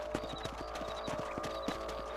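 Horse hooves clip-clop in Red Dead Redemption during a mounted patrol of a ranch property, with a steady, evenly spaced walking rhythm of hoofbeats over a low constant hum, at moderate volume.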